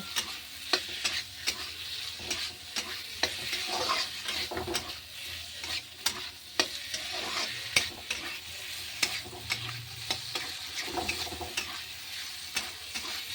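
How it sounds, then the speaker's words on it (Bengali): Cauliflower pieces fry in a pan for an egg curry, with a steady sizzle under repeated sharp clinks and scrapes of a spatula stirring against the metal, and no talking. "এই যে ফুলকপি হয়ে গেল, এবার আমি ভাজবো"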